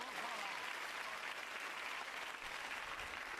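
Studio audience applause from a 1991 British TV variety show, a steady dense wash of clapping heard alone, fairly faint and even throughout.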